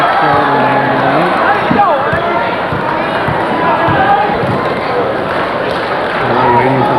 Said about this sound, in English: Big crowd around tonight.